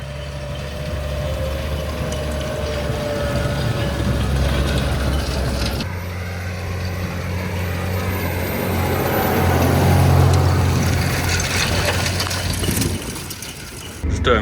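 A tractor ploughing a farm field gives a steady, loud, low engine drone with a mechanical rattle on top, running throughout and swelling toward the middle before easing off near the end.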